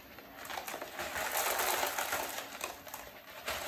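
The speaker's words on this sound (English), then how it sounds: "I add pebbles" Pebbles poured into a hydroponic plant pot around a transplanted plant: a continuous dense rattle and clatter of small stones, close and fairly steady for several seconds, with no talk.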